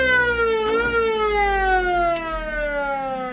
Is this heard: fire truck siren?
yes